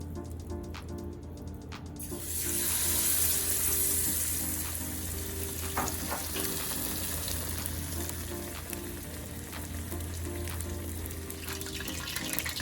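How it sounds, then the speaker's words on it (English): Beer-battered fish fillets fry in hot oil with a steady, broad sizzle that swells loudly after a quiet start and then holds at an even crackling hiss, with no one speaking. "you make it fry 3 to 4 minutes according to the size of your fillet"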